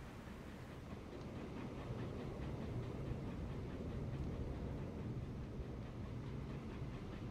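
Trains running in the Transport Fever 2 video game during a 1913 era, giving a steady low rumble and faint rolling rattle that continues evenly throughout.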